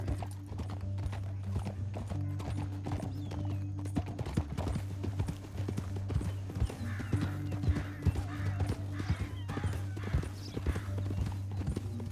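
Horse hooves clip-clopping steadily in the video game Red Dead Redemption 2, a continuous close rhythmic gait over a low engine-like drone, with faint snorts and tack jingling later on.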